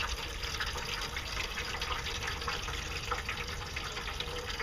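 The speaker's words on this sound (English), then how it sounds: "I've got just a fine stream of water" A fine stream of water washes black sand through a gold-prospecting device, a steady soft trickling and gurgling that continues evenly and fairly quietly, no talking.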